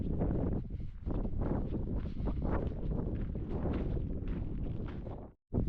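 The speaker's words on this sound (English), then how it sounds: "it's extremely windy, so you probably won't hear me very well" Strong wind buffeting a microphone outdoors at Goblin Valley State Park, a steady loud roaring rumble that fills the whole clip before a brief sudden drop near the end.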